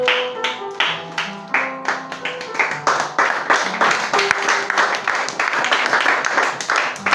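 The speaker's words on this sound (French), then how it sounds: "Acclamez très fort, acclamez très fort." Rhythmic group clapping in a church setting, a steady beat of many hands that grows denser and louder, with sung voices underneath.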